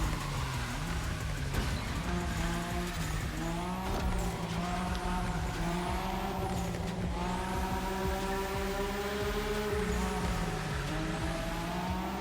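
A car drifts through corners in The Crew Motorfest, its engine droning steadily with tones that rise and fall as the tires squeal continuously, loud and close throughout.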